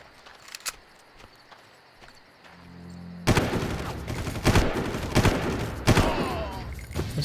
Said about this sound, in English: Is he shooting me through the stump?